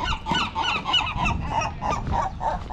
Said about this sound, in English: Chirping pelican and seagulls